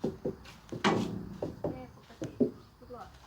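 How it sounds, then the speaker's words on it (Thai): A hand knocking on the tyres of a multi-wheeled trailer truck to check them, giving a series of dull, hollow thumps at an irregular pace, close by, with voices talking around them. "ต้องเคาะยางดูครับ ต้องเช็คแบบนี้ครับ"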